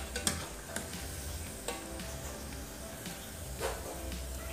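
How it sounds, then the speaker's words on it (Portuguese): Small coconut dough balls frying in hot oil over low heat give a steady, faint, soft sizzle and bubbling throughout, with a few light ticks. No one speaks. "É só colocar as bolinhas para fritar. E pessoal, deixa fritando em fogo baixo."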